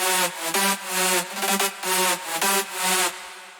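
Four layered synth leads playing together in an electronic drop, a loud bright stack sounding choppy repeated chords with short pauses between them, with no voices.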